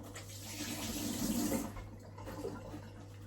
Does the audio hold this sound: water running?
yes